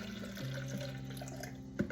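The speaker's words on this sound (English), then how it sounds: "All right, so you're gonna wanna put some water in here" Water poured into a container for a homemade immunity juice made without a juicer: a steady close-up trickle and splash with rising pitch as the vessel fills, then a brief sharper splash near the end, with no talking.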